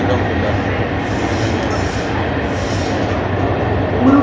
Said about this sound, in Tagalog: pinakita ko lang sa inyo, pinasilip ko lang sa inyo ang train, yung aming train dito sa Italia